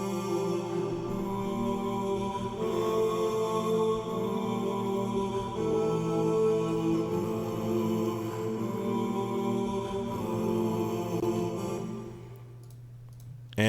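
Stacked vocal harmony parts for a beat, split across the chorus chord progression, sustain as a dense layered chord bed that holds steadily before thinning out near the end.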